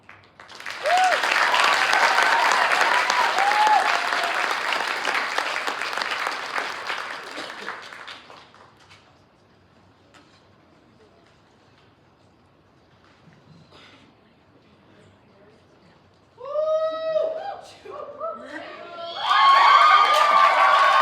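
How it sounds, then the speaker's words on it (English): Audience at a high school night of ten-minute plays bursts into loud applause and cheering for about eight seconds, fades to near silence, then shouts and whoops rise again near the end. "I hear people cheering"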